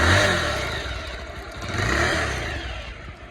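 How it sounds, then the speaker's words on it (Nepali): A motorcycle engine on a ride from Mustang to Kathmandu, revving up twice in close succession with a loud rising drone and rattling clatter, with no voices. "बाइकको साउन्ड चेन्ज भइरहेछ"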